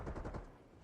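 An AK rifle fires in the video game Warzone: a short, rapid burst of several muffled, fairly quiet shots in quick succession that trail off into a low rumble.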